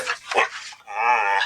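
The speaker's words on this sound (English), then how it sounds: "That's the dog." A dog barks and whines indoors, a couple of sharp yips followed by a longer, drawn-out whimpering howl, loud and close.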